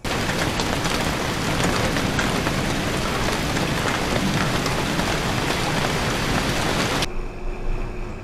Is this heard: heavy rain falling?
yes